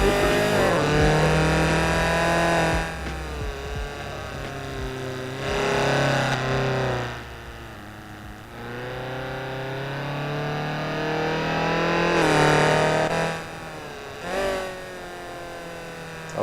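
A car engine in a touge mountain-pass racing video game on the Fujimi Kaido course revs hard again and again, its pitch climbing and dropping through gear changes, loud and close with no talk over it.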